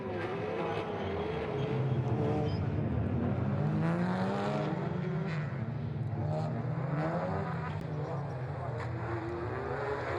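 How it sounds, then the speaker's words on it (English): Touring race cars rolling to the grid at Suzuka for a WTCR race in Japan, their engines droning and rising in overlapping waves at moderate distance under a commentator's voice. "29 cars heading to the grid in Suzuka"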